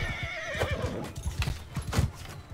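In Mount & Blade II Bannerlord, a horse whinnies amid a steady run of clip-clopping hooves, close and fairly loud, with a few sharper knocks and thuds mixed in and no speech.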